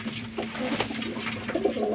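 Parwazi pigeons coo softly and repeatedly at close range, their low throaty calls rising over a steady background hum.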